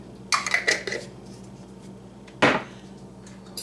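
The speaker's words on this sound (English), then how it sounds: "Stir this around a little bit" Spaghetti squash being stirred with marinara in a bowl: a quick cluster of clinks and scrapes from a utensil, a pause, then one louder scraping knock, close by and with no voices.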